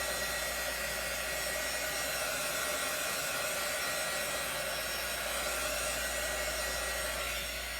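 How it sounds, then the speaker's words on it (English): A close, steady craft heat tool hum with a broad airy hiss runs continuously at an even level, with no talking. "like I'm doing, a heat tool."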